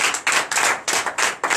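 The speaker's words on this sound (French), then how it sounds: "Donnez l'acclamation au Seigneur" A church congregation claps together during a Sunday service in Comè, Benin, in loud, close bursts of dense hand-clapping that surge and break roughly every third of a second, with no voices on top.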